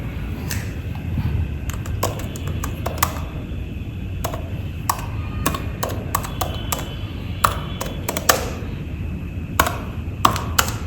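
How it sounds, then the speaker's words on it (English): Fingers type on an M1 MacBook Air keyboard, with rapid, light clicky keystrokes falling in irregular bursts and occasional sharper taps, close and steady over a soft background hiss. "And here is the keyboard test, and use headphones for better experience."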